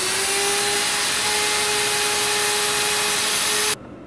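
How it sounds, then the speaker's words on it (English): A surgical power drill runs continuously for about four seconds, drilling a locking screw into a midfoot fixation plate for a Lisfranc fracture, a loud steady high whine that cuts off abruptly. "and drill the locking screw to its appropriate depth."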